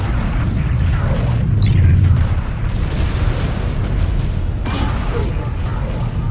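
An exposed mech reactor blows in MechWarrior 5: Clans with a heavy, booming explosion that swells to a loud peak and then rumbles on amid ongoing battle noise.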